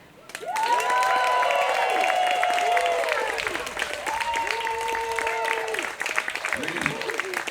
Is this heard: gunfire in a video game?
no